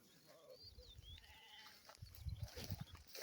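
Sheep that are used to grazing on flat pasture bleat a few times at moderate distance, short calls scattered over quiet outdoor background, with rustling and shuffling noises growing louder toward the end.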